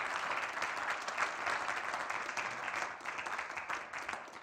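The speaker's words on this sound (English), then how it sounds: "And give her another round of applause." Audience applause for a guest musician at a church service fills the space steadily, a dense wash of many hands clapping at an even level throughout without pause.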